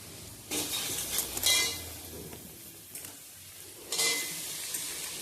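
Onion and garlic masala paste frying in a pan for Bengali shahi aloo paneer, heard as quiet, intermittent bursts of sizzling with scraping stirring strokes and a low background between them.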